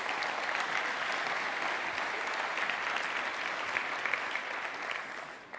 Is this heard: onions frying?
no